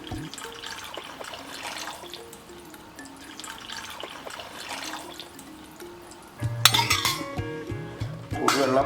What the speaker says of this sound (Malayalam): ചെമ്പരത്തി രസത്തിൽ ആദ്യം ചെയ്യേണ്ടത് പുളിവെള്ളം ഒഴിക്കുക.